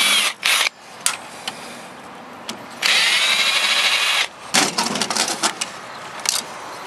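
A power drill backs screws out of an old radio in short bursts: two quick whirs, a brief pause, then a longer run and a string of stuttering pulses, close and clear against a quiet room.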